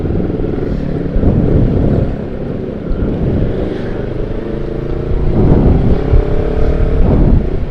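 A Honda CBR 250RR motorcycle engine rumbles with several swelling revs, heard outdoors through heavy wind buffeting on the microphone.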